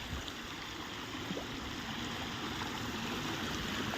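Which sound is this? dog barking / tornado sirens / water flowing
water flowing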